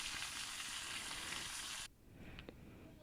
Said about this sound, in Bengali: তো দেখতে পাচ্ছেন টমেটোগুলো ভেজে নিচ্ছি